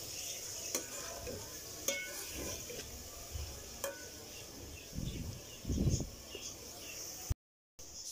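Quiet sizzling of minced beef keema in a pan with occasional scraping stirs and spoon knocks, a steady low fry throughout, no talking.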